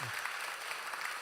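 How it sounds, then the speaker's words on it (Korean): A church congregation applauds newly confirmed members during a Sunday service, a brief, even patter of clapping from a room full of people. "우리 박수로 축하하도록 하겠습니다"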